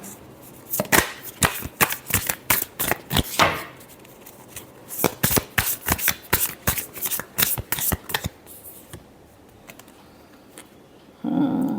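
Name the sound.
shuffling tarot cards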